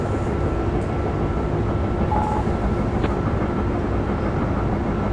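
A train in the Train Sim 2013 video game rumbles steadily while braking, a continuous heavy low drone of wheels and carriage noise with a faint squeal, no talking over it.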